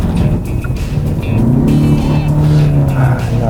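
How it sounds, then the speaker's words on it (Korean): Kia Stinger 2.5 engine roaring loudly as RPM climbs under hard acceleration, a steady close, rising drone that swells and holds for several seconds with faint tire noise beneath. "막 밟으면은 막 RPM이 솟구치고 굉음이 나면서 막 무앙 하는데"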